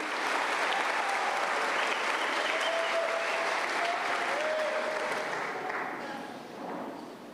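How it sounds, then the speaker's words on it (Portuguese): A church congregation breaks into loud, sustained applause, a dense wash of clapping that carries on for several seconds before easing slightly at the end. "Aleluia, pode aplaudir."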